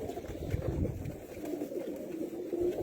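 An ornamental pigeon coos softly in low, repeated throaty pulses, close by and fairly faint, with quiet room noise behind it.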